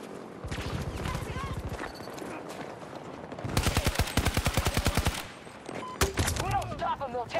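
Gunfire in the video game Battlefield 2042: rapid automatic bursts, a short burst early on, then a long sustained string of shots and a final sharp volley, all over busy game noise and a voice.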